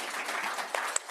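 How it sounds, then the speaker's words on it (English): Audience applause closing a telesurgery conference session, a steady wash of clapping from a crowd that holds at an even level for about a second, with a couple of sharper claps standing out near the end. "it's time to give you another applause for this great experience"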